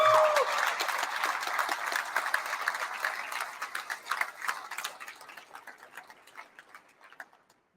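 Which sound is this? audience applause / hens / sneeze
audience applause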